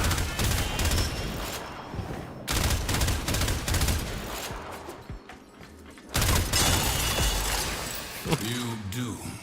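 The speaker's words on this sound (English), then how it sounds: "It's a paintball gun." A paintball gun in the sci-fi shooter Warframe fires in rapid bursts of popping shots, clustered volleys broken by brief pauses across a busy game soundscape.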